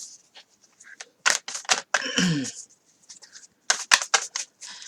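A Thoth tarot deck is shuffled and a card drawn, giving quick bursts of crisp paper riffling and snapping in short clusters with pauses between, close and quiet.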